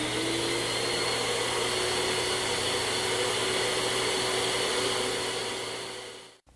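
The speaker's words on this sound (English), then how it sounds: "I thought the shop-minded people here might like to see what I did with my new vacuum cleaner" A vacuum cleaner drawing air through a narrow 1/8 inch hose produces a loud, steady whine and rush that holds constant, then winds down abruptly as it is switched off.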